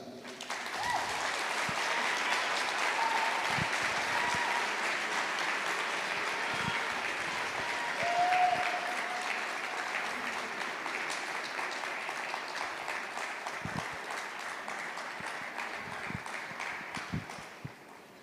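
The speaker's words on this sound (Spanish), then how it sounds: "quisiera que la recibiéramos con un bien grande, bien fuerte aplauso" A large audience gives a long, loud round of applause welcoming a guest at an event, a sustained wash of clapping that swells, holds for many seconds, then thins out near the end.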